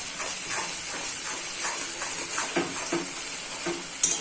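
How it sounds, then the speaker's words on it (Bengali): Masala with onion and garlic sautés in hot oil with a constant hiss and sizzle, broken by several soft stirring scrapes and a small clink at the end. "মশলাটা আমি ভালো করে কষাবো যাতে কাঁচা পেঁয়াজটার আর কাঁচা রসুনের গন্ধটা যাতে"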